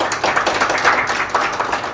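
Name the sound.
audience clapping to welcome a guest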